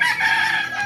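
A rooster crows loudly and close by around midnight, a single drawn-out call with no talking.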